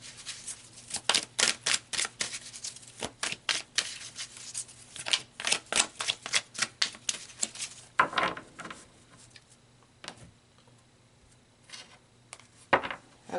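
Tarot cards are shuffled and pulled by hand, a quick run of crisp riffles and slaps followed by slower, sparser card sounds, close and clear with no voices.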